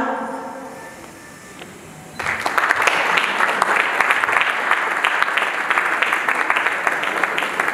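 Applause breaks out at a King and Queen pageant evening for the Central African Republic's independence, a room of clapping that starts abruptly after a quiet lead-in and carries on steadily to the end.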